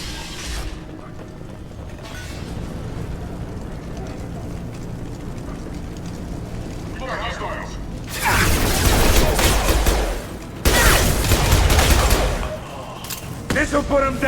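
Blue Suns mercenaries and Vorcha trade gunfire in Mass Effect 2, heard as bursts of loud rattling automatic fire in the latter half after a stretch of quieter mechanical clatter, with speech over the action.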